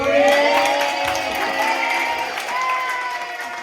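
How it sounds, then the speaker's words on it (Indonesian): A crowd claps and cheers loudly, with whoops and children's shouts mixed in, sustained throughout. "tepuk tangan dulu"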